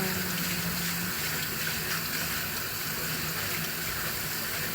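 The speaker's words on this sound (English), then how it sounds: "wash the rice, swish it around with my fingers and rub it around to get the starch off of it" Brown rice being rinsed by hand under cold running water from a kitchen tap, a steady close-up gush and splash with no pauses and no speech.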